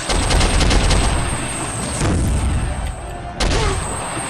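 Dense gunfire in the first-person shooter game Soldier of Fortune: loud, continuous rapid shots and booms that run through the whole stretch with brief dips, without voices.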